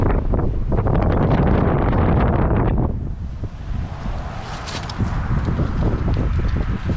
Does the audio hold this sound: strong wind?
yes